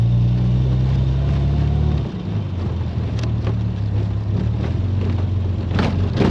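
A 1971 Triumph Vitesse classic car engine drones steadily while driving, then the tone drops and shifts around a gear change, with wind rush and light cabin rattles over the engine hum.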